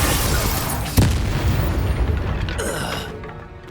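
A Confringo spell in the Hogwarts Legacy video game goes off in a sharp, loud blast about a second in, followed by a long crackling rumble that fades away.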